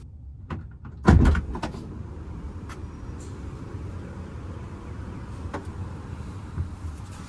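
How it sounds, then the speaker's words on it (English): Electric sliding second-row door of a Volkswagen ID. Buzz shutting: a sharp solid thud near the one-second mark, then a few light clicks over a low steady hum of surrounding traffic. "sliding door entry in the second row, and closing of the door requires just a tap of the button over there"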